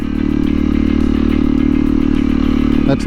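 A 2021 Honda CRF 300L's single-cylinder engine drones steadily and loud while riding off-road, with a brief rev change near the end and some clatter over the ground.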